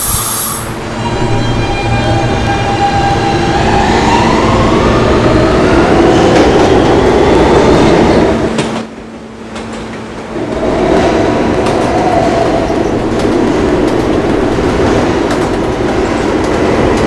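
Roblox R160B subway train running through a PTA Subway tunnel, a loud steady rumble with rising motor whine and wheel noise, briefly dipping before the drone resumes.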